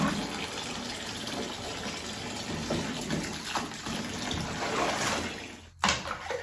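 Water runs steadily into a bathtub being filled for a 4-month-old baby's bath, a constant broadband gush that swells slightly and then cuts off briefly near the end before resuming.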